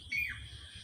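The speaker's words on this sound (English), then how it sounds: "you might be hearing a very melodious voice. So let me locate the bird." A single bird call in an outdoor nature setting, a brief, bright squawk-like note near and clear over a steady low background hum.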